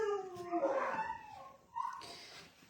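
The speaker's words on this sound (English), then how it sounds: "dog's barking." A dog indoors howls and whimpers in drawn-out rising and falling cries, somewhat distant and fairly quiet.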